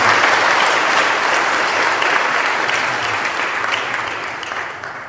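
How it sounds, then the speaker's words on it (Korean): Warm, loud applause from a church congregation at an ordination service for elders, deacons and deaconesses, a full, sustained round of clapping that slowly eases off. "뜨거운 박수 부탁드립니다."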